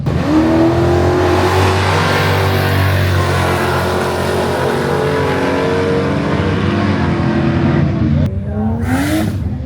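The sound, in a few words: Ford Falcon G6E turbo race car accelerating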